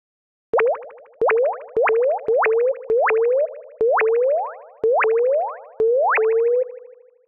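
Synthesized bubble plops built in the Serum synth, eight clean pitched blips in an uneven rhythm, each a quick upward-sweeping boing that rings briefly before the next, alone in silence and fading at the close.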